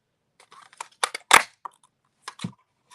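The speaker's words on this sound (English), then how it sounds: "And punch your pieces out." A handheld paper punch clicks and crunches through pieces of cardstock in close, crisp bursts: a cluster of snaps with one loud crunch near the middle, then a pause and two more sharp clicks.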